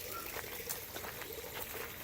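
Pumped water trickling and flowing through a bioponic grow bed filled with red lava rock, a faint, steady wash of liquid with soft splashing and no voices.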